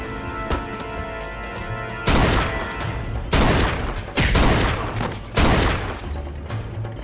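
Gunfire in the Mafia 2 video game, with four loud bursts of shots and crashing impacts at intervals, set against a steady background of game sound.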